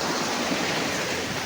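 Sea waves rolling onto the shore at Pantukan, a continuous broad wash of surf noise, steady and fairly loud, with no voices.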